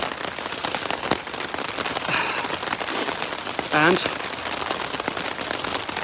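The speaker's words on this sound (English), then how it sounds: "as you can hear now, it's raining." Steady rain patters all around on the Arizona Trail, a dense hiss, with a person speaking briefly partway through.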